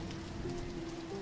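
Steady rain during a storm, a soft continuous patter on a surface heard from indoors, faint and even throughout the short moment with no voices.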